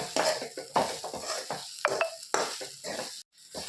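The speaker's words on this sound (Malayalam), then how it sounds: "ഇത് ഒന്ന് ഒരു ബ്രൗൺ കളർ ആവണമെന്ന് നമ്മളിങ്ങനെ വറക്കണം." Spices frying until brown in a pan for mutton curry, sizzling under busy scraping and stirring strokes from a spoon, the clattering scrapes coming in quick irregular bursts.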